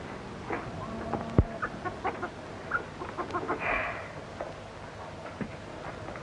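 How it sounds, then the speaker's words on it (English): Soft, scattered clucking from a chicken in an old 1930s film scene, a few short calls spread over a quiet, hissy background. "No, that's our chicken."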